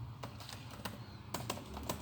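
Keys tapped on a computer keyboard to enter a student ID number into a web form, a scattering of soft, fairly quiet clicks with uneven spacing over a low background hum.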